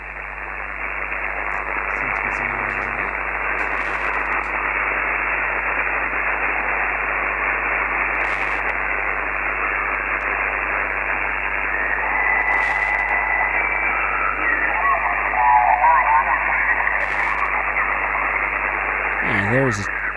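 Steady hissing radio static fills the band, with faint warbling tones and brief chirps drifting through as the dial moves; no clear voice emerges.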